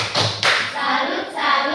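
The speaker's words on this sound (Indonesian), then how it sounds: "Mari kita berikan tepuk salut untuk kelompok 2" A primary school class doing the 'tepuk salut' clapping chant, with a few loud thudding claps among voices chanting together at close range.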